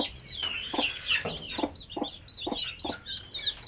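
Zampen native chicken chicks, a fresh brood of fourteen, peep in quick high repeated calls with soft clucking mixed in, close by and steady throughout.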